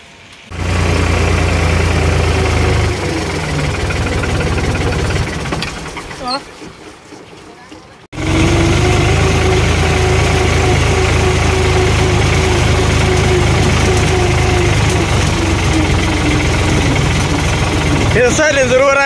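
Tractor engine idling nearby, a loud steady low rumble that dips and cuts out briefly before resuming strongly, with people talking over it at times.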